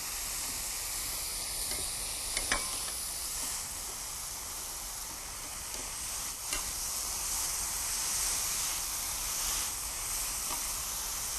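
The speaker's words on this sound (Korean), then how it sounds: "이렇게 볶듯이 졸여주시면 돼요." Steady sizzling from a hot pan with occasional scrapes and stirring clatter as fresh ginseng, burdock and green chili are tossed for japchae, continuous and close, no voices.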